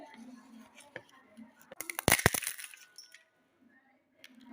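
Crisp fried semolina papad breaks in a loud, dense burst of crackling crunches in the middle, with quieter handling before and after.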